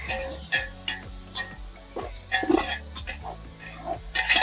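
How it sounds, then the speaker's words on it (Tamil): A spoon scrapes and stirs chicken biryani in a pot with repeated rhythmic strokes and clinks against the metal, over a soft background sizzle and faint voices. "நான் கிண்டுறேன்"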